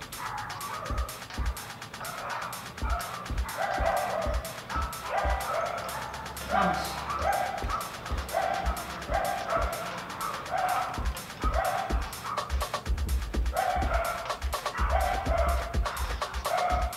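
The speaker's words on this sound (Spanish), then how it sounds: "Vamos, por ahí están ladrando los perritos." Dogs bark repeatedly nearby during a leg and cardio workout, steady yips and woofs running throughout over background noise, with a brief car sound and faint talk.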